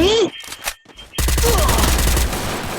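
Gunfire in the Free Fire mobile shooter game comes as loud bursts of rapid shots. A dense volley follows a brief lull, with game effects and a voice mixed in.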